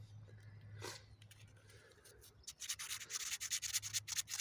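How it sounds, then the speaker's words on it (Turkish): Fast scratchy rubbing of doubled sandpaper against a car's metal throttle body, quiet at first and then growing into rapid back-and-forth strokes, over a low electrical hum. "Bakın zımparayı çift yaptım ki iki tarafı da aynı anda temizleyebilsin."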